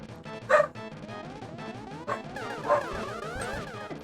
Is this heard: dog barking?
yes